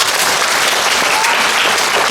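A school assembly audience bursts into steady, loud applause and cheering for a student of the month, the clapping dense and continuous throughout with no speech over it.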